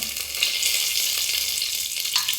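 Bay leaf and whole spices sizzle in a few spoons of hot oil in a pressure cooker, a steady close-up frying hiss with small crackles throughout, no talking.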